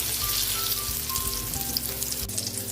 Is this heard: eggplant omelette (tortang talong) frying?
yes